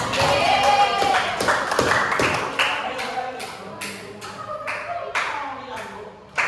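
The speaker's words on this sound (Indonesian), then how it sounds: "beri aplaus kepada Jihan" A classroom group applauds a student named Jihan, a burst of clapping that thins into scattered claps and taps before fading, with voices mixed in.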